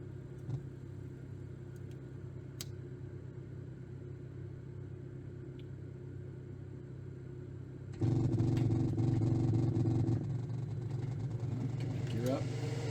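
Jet engines of an F-18 in the DCS flight simulator spool up as the throttles are pushed forward, a steady low hum that jumps abruptly into a louder, fuller roar partway through, with someone talking over it.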